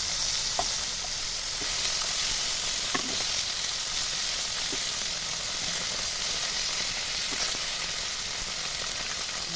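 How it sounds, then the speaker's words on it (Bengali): Climbing perch sizzle loudly in hot frying oil as they are flipped in the pan, a continuous close crackling hiss with occasional faint clicks of the turning utensil and no voices. "মাছগুলোকে উল্টে পাল্টে ভেজে নিচ্ছি।"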